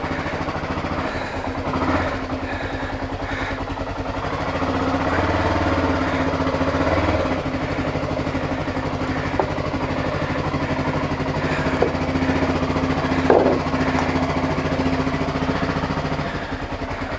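A Honda XR600R motorcycle engine idling right after a kick start, a steady close-up thumping drone that holds even throughout with a few small mechanical ticks and no voices.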